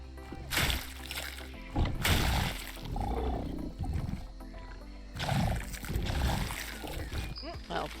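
Roars of a Carnotaurus in a dinosaur video game, two loud bellowing bursts separated by a pause, with splashing and other game sounds around them.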